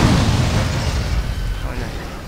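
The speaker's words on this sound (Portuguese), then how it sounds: "Os golpes deles são fortes que os carros até explodem." A car in GTA San Andreas blows up after being struck by a Madara Uchiha jutsu, a loud close boom that rumbles and slowly fades.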